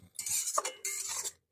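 A spoon scrapes and clinks against a pan while spices are stirred into a ridge gourd paste, two short bursts of scraping with a soft knock between, close and fairly quiet.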